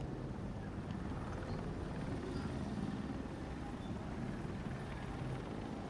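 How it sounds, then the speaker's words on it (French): Helicopter flying in the video game Batman Arkham Knight, a steady low rotor drone that stays constant and moderately quiet under a broad noisy wash. "Là, ça c'est un hélicoptère en face."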